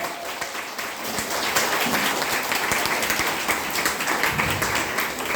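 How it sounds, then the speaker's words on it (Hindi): Audience at a DXN business meeting applauding new members, a dense, sustained round of clapping filling the whole stretch at steady loudness. "जोरदार ताली बजाइए इनके लिए,"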